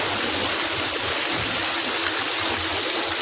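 Rainwater rushes and streams steadily through a flooded home courtyard during a heavy downpour, a loud, continuous broadband wash of flowing water with no talking.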